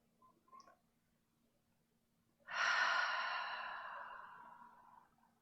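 A single long, soft exhale during a yoga stretch, starting abruptly after a faint earlier breath and fading slowly, close and alone over a low steady hum.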